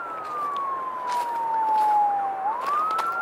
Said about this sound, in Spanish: Siempre las sirenas.